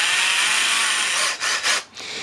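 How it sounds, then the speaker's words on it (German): A cordless 4-in-1 drill from a discount store runs steadily with a dense high whir, dipping twice in quick stalls near the end before resuming, close and loud with no talk. "wir versuchen mal mit dem Aufsatz die ersten Bohrversuche."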